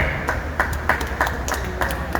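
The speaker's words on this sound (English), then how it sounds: "Give a clap for Fort Hood" A tour group claps in a short, loose burst of about seven or eight claps, evenly spaced and moderately loud, outdoors on a riverwalk.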